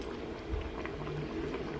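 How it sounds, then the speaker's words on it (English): Filipino menudo simmering in a pot, a continuous low bubbling burble with no other sounds. "you can just let this simmer for a while"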